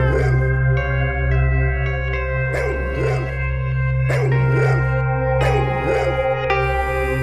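Dog barking in an Indian crime drama, several loud barks and yelps in uneven bursts over a continuous droning music bed.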